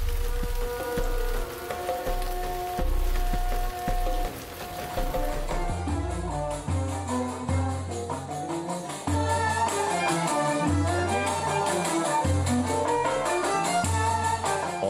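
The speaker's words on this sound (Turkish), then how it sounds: "Fez'de yıl boyu nadir görülen yağmur aralıklı olsa da yağmaya başladı" Steady rain falls through the narrow historic streets of Fez, a continuous hissing patter across the whole stretch with low rhythmic tones and faint tonal sounds mixed beneath it.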